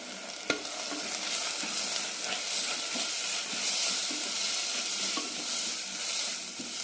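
Turmeric, roasted coriander, chili powder and garam masala frying in a pan for a potato egg curry, sizzling steadily with scraping stir strokes throughout and one sharp clink near the start.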